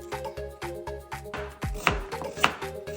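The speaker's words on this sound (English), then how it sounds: "Cut the carrots and set aside." A knife chops carrots on a cutting board in quick, steady, evenly spaced strokes. Each chop lands with a crisp, close knock, and a few stronger cuts ring out near the end. No one speaks.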